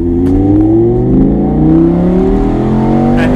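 A 2017 Audi R8 Spyder's 5.2 V10 engine revs steadily upward, its deep, loud drone rising in pitch over a few seconds, close by.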